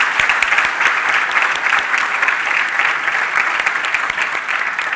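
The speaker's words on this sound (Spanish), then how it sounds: "un aplauso para los organizadores" Sustained, dense applause from a conference audience at a JavaScript developer event in Spanish-speaking South America, steady and loud for the whole stretch with no talking over it.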